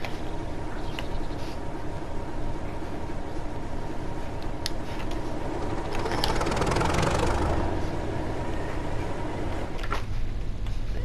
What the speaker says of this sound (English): hold it in start till you hear a diesel motor starting